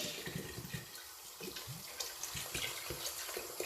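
Water running and splashing into a cooking pot to cover fish for a fish stock, a steady close pour with small gurgles and no talking.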